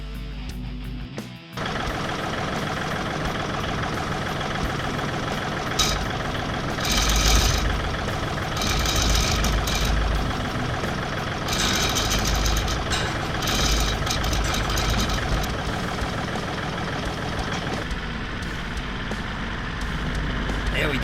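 A tractor engine idles steadily and close by for a long stretch, a rough, continuous rumble with clattering, knocking texture and brief swells in loudness, with no talking over it.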